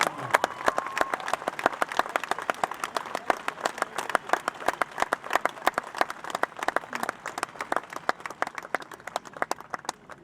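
An audience at an equestrian event applauds a team world champion, with brisk, fairly sparse clapping from a modest crowd that keeps a steady rhythm throughout.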